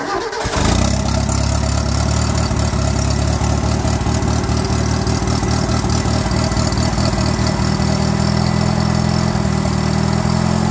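The small four-cylinder gas engine of a 1974 Satoh Elk 550G tractor turns over and settles into a steady, loud idle close by, running evenly without any talk.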